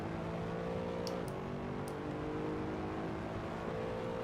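A road car built by an F1 team, driven on the Barcelona circuit, its engine droning steadily; a brief dip in pitch marks a downshift, then the note climbs again under acceleration, with the cabin hum continuous.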